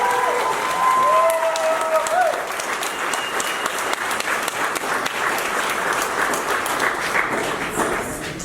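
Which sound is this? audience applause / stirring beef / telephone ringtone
audience applause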